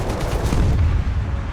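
Dense, loud tank gunfire in War Thunder, an M46 Pershing in combat, a continuous close barrage of rapid shots and rumble filling the whole brief moment with no pause.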